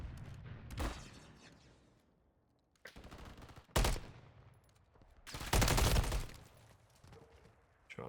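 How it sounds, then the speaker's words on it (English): Heavy gunfire in a competitive video game match comes in rapid, loud bursts and sustained automatic volleys, separated by short quieter gaps, with no speech over it. "We got some heavy gunfire going down"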